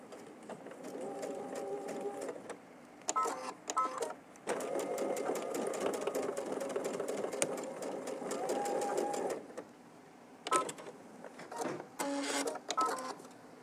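A sewing machine stitches a short seam in close, rapid bursts of needle chatter that stop and restart several times, with brief pauses between runs of stitching.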